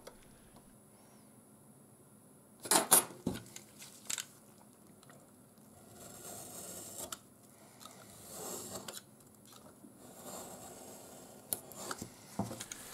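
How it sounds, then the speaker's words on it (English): Cutting small triangular support pieces and lengths for a tabletop terrain model house, a few sharp snips and clicks early on followed by quieter scraping and rubbing of craft material, close by with no talk. "we are also going to cut out small triangles just to use as supports."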